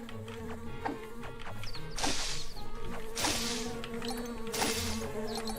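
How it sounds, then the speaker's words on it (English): Buzzing insects in the video game Secrets of Gindea, a continuous drone with several louder swells of hissing activity and brief sharp game effects layered over steady tonal background music. "I need more bees."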